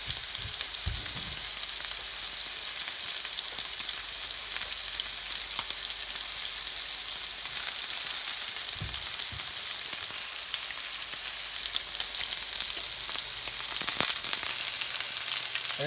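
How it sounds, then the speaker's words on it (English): Lamb chops searing in a hot pan give a loud, continuous crackling sizzle close up, with a few low thumps and handling noises scattered through. "We're gonna let that sear up in a minute."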